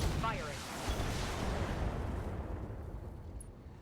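Mech weapons firing in the video game RogueTech, a heavy booming blast rolling into a long rumbling decay that fades over a few seconds.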